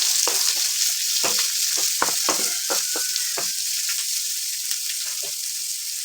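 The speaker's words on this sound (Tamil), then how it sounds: "ஒரு வெங்காயத்தை பொடியாக நறுக்கி சேர்த்துருக்கேன் அதை லைட்டாக செஞ்சுக்கிறேன்" Chopped onion sizzling steadily in a hot pan, with a constant frying hiss and occasional crackles and stirring clatter.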